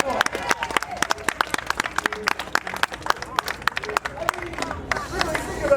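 An audience claps for a fire eater's act at a Renaissance fair, the sparse, uneven hand claps spread across a small outdoor crowd with light chatter underneath.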